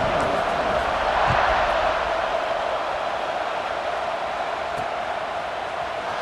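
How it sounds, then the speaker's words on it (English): A stadium crowd roars in the video game EA Sports College Football 26 after a touchdown, a dense continuous wash of cheering that stays loud and even, swelling slightly near the start. "this crowd is buzzing after that last score."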